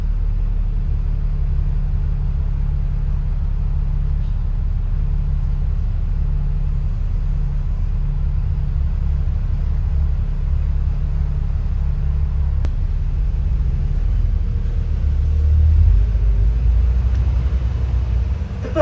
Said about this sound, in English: The bus now crosses the river by the Olde Bridge.